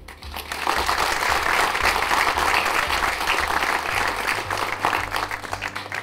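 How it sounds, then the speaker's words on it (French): A theatre audience at a magic show applauds itself, a loud sustained wash of many hands clapping with a low rumble beneath, steady for several seconds before thinning slightly at the end. "vous pouvez vous applaudir"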